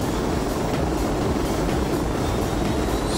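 A simulated Puma helicopter in the FlightGear flight simulator game, a steady, loud whooshing rotor and turbine roar that holds without a break.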